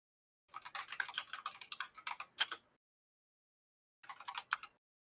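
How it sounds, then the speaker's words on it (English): Notes typed on a computer keyboard: a quick run of light key taps for about two seconds, a pause, then a second short burst, faint and close with no talk over it. "You can hear me typing?"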